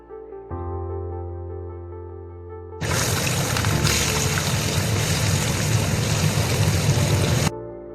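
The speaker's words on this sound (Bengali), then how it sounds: "ছোট ট্যাংরা মাছের ঝোল করার জন্য প্রথমে আমি মাছগুলোকে 1 চামচ লবণ, 1 চামচ মরিচ গুঁড়া এবং 1 চামচ হলুদ গুঁড়া দিয়ে ভেজে নেব।" Small tengra fish frying with salt, chili powder and turmeric in hot oil: a low hum gives way to a loud, steady, close sizzle that runs for about five seconds and then stops abruptly.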